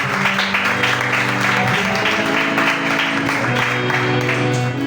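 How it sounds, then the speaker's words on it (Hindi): Loud, steady applause from a church congregation at a healing and blessing meeting, sustained clapping filling the hall alone for several seconds. "जोरदार ताली यीशु के लिए।"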